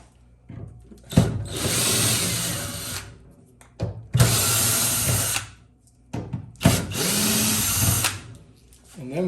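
Cordless power drill backing out screws from a refrigerator door hinge, three loud whirring bursts of about two seconds each separated by short pauses with clicks and handling sounds between them.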